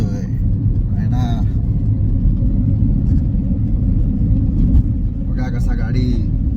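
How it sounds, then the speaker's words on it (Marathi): A car on a road trip toward Mumbai rumbles steadily from inside the cabin, a low continuous engine and road drone with voices talking intermittently over it. "आमचा सोम कसा गाडी चालवतोय आहे ना."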